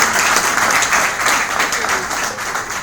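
A crowd applauds at the International Natural Hair Day Meetup in Douala, Cameroon, dense clapping that swells and stays loud, with faint voices mixed in.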